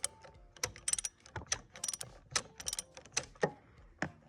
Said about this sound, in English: So holding the wrench, you're gonna loosen it up.